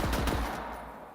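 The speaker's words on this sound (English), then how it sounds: "if we just fire regularly, we just fire bullets" A Vladoff pistol fires a quick burst of several close, punchy shots in the Borderlands 3 video game. The shots fade out into a short echoing tail.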